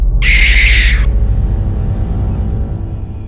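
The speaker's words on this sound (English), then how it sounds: "When you heard the American barn owl and your stomach dropped" An American barn owl gives one loud, harsh, rasping screech lasting about a second, then stops, leaving a steady high tone and low background hum.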